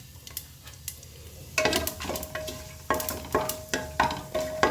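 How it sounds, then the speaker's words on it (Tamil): Whole spices and cashews crackle and sizzle as they temper in hot oil in a pan for biryani, starting faint, then a steady close-up frying hiss with sharp pops and a few stirring clinks, no voices. "எண்ணெய் சூடானதுக்கப்புறம் 2 பட்டை, 2 கிராம்பு, ஏலக்காய், பிரிஞ்சி இலை, கொஞ்சம் முந்திரிப்பழம், பருப்பு அப்படியே போட்டு தாளிக்கலாம்"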